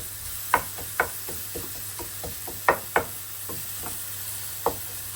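Spices dry-frying in a pan for a Sri Lankan style lamb and potato curry, a soft sizzle under sharp, irregular knocks and scrapes of a spoon stirring against the pan, close and without speech.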